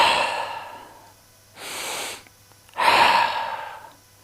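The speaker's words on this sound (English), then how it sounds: "We're going to take 2 breaths here." Deep yoga breathing during a hatha flow class: two loud, close breaths, a long airy inhale followed by a strong forceful exhale, alone without talk.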